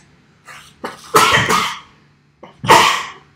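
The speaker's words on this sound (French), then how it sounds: "Je vais éternuer, excusez-moi." A sneeze close to the mic, with a short sharp burst, a breathy pause, then another forceful sneeze-like burst.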